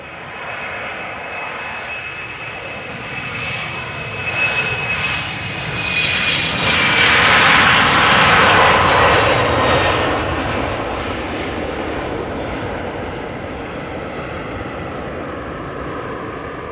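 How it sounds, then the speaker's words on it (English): KLM Embraer 190 jet airliner passing at Amsterdam Schiphol, a steady engine roar with a whining tone that swells as it nears, peaks loudly midway, then eases off but lingers. "KLM flight 1181, Embraer 190, 9 years old, first flight February 2014."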